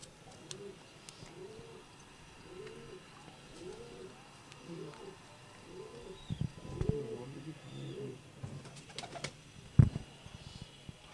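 Pigeons of fine breeds kept by a pigeon fancier coo in a soft, repeated rhythmic series, a regular string of low calls, with faint chirps and a few thumps and rustles nearby.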